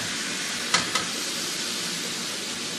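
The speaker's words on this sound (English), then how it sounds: "So now we're just going to add a couple tablespoons of light soy sauce" Light soy sauce hits a sizzling stir-fry in a restaurant wok, giving two sharp hissing bursts over a steady, loud frying crackle that carries on alone afterward.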